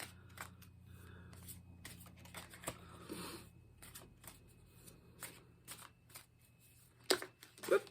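A Moonology oracle deck is shuffled by hand and cards are pulled from it: soft, close riffling and papery flicks, quiet overall, ending in a couple of sharper card snaps.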